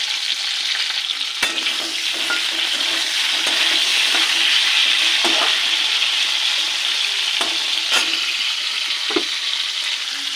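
Cauliflower sizzles and fries in oil in a pan with a steady, loud hiss throughout, broken by a few sharp clicks and scrapes of stirring.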